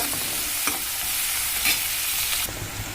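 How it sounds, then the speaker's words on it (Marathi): Chopped onion fries in a pan for a chickpea curry, a steady sizzle broken by a few quick scraping stirs of a spoon; no talking. "आता आपल्याला हा कांदा हलकासा कलर बदलेपर्यंत भाजून घ्यायचा आहे"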